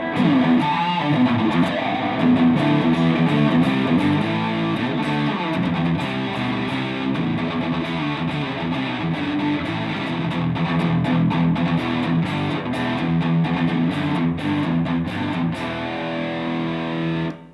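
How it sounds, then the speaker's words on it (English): Electric guitar through a heavy distortion pedal turned all the way up plays a dense, sustained metal riff with rhythmic chugging, loud and continuous throughout, no voices. "crank the distortion all the way up there, and bring the tone up a little bit"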